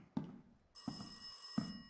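A phone ringing inside a VR horror game, a bell-like ring repeating in three quick bursts, with a high electronic tone entering partway through, quiet and with no talking.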